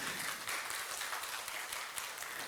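A congregation at a Korean church Sunday service claps together, producing a steady wash of applause that sounds soft and somewhat distant.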